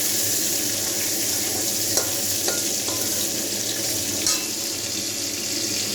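Cabbage, potato and fish head fry together in a pan, giving a steady broad sizzle throughout with a few faint clicks of stirring.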